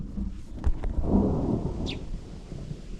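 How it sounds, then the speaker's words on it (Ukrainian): Thunder rumbles low and close during rain at a strawberry farm, a swelling roll over steady patter of raindrops, with no talking. "Ну зараз нема будемо збирати поміж дощем, але гримить."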